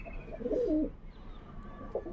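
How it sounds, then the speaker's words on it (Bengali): Pigeons of a prized quality breed coo softly, a low burbling murmur that swells in the middle and returns briefly near the end, close by with no talk. "খুবই সুন্দর একটা কোয়ালিটি পায়রা"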